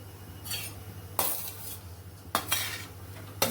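Mawa roasting in a pan over a gas flame, stirred with a spatula at intervals; a few separate scraping strokes stand out over a steady low hum, with no voices.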